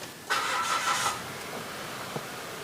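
A car engine cranks briefly and catches, with a loud rough burst settling into a quieter steady idle, close by with no talking.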